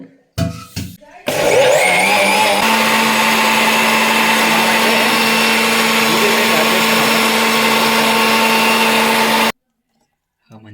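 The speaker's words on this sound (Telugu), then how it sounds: "ఇప్పుడైతే మిక్స్ ఆడించుకొని జ్యూస్ అయితే తయారు చేద్దాము" A mixer grinder blends wild raspberries with milk and sugar, a loud steady motor whir lasting several seconds after brief handling noises, then cutting off abruptly into silence.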